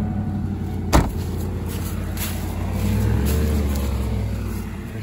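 A Ford Mustang Cobra that has been sitting a while runs with light throttle, a steady close engine rumble that swells a little under added gas, with a sharp knock near the start.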